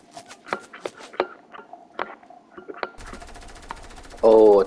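Scattered rapid gunfire pops and clatters in Fortnite, then a sustained burst of automatic fire ends in a loud blaring tone.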